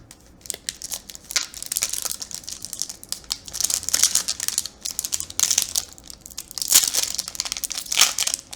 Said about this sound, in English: Man, these packs are pretty tough to open.